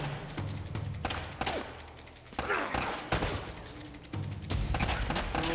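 Gunfire from the video game Uncharted: Drake's Fortune: repeated sharp shots and bursts with thuds in between, under a rumbling game soundscape.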